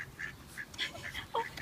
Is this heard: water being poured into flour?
no